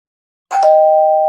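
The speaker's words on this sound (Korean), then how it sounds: "초인종이 울렸어요." A doorbell rings late at night, two quick struck onsets blooming into one steady, clear chime that holds on without fading, loud and close against an otherwise silent room.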